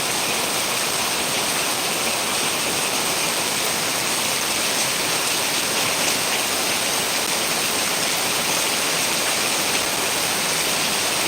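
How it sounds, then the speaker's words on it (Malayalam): Torrential rain in Kozhikode pours without let-up, a loud, unbroken wash of falling water that stays constant throughout, with no one speaking. "കോഴിക്കോട് ജില്ല മഞ്ചേരിയൊക്കെ മഴയാ നല്ല മഴയാ നല്ലോണം പെയ്തുകൊണ്ടിരിക്കുന്നുണ്ട്"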